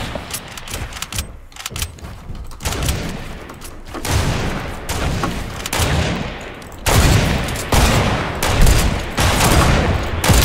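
Repeated gunfire from a sniper shootout in a shooter video game, with dense bursts and shots spread across the clip, loud and continuous without talk.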